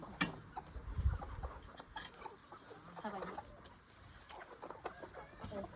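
Hens cluck intermittently at moderate distance, with scattered outdoor noise and faint voices in the background.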